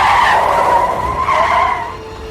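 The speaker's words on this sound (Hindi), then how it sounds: "बहुत तेज गाड़ी की ब्रेक लगाई" A car brakes hard and suddenly, its tires letting out a loud, sustained screeching skid that fades as the vehicle slows to a stop.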